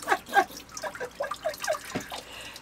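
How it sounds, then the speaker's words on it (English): Water from a hose splashes and drips in a quick, irregular patter of small droplets landing nearby, fairly quiet, with no talking. "I'm literally using the rest of the hose water to finish washing Martha's face"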